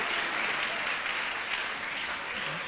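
Congregation applauding and cheering in a church service, a steady dense wash of clapping that holds evenly for a few seconds with no voices above it.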